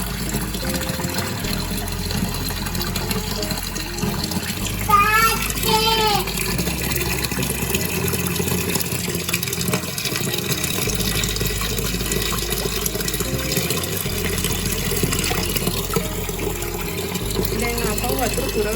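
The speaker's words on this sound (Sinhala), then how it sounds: "දැන් අපව වතුර පුරවන්න යන්නේ" Water pours steadily into an aquarium fish tank throughout, a continuous rushing fill at close range, with a person talking over it at intervals.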